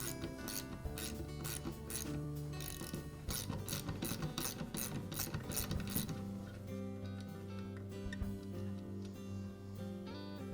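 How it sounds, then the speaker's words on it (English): A wrench ratchets a nut off the armature of a Skil Skilsaw circular saw, with rapid clicking bursts in the first six seconds followed by quieter metallic rubbing and handling. "So I'll need to hold the armature with one hand as I remove the nut."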